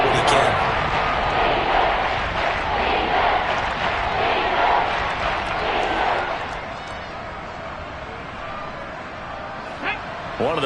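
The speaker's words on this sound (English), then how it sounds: "The crowd getting into it as we come up on a big 3rd down." A stadium crowd in a football video game roars loudly and steadily for a big third down, a dense cheering wash that eases off toward the end while a commentator talks over it.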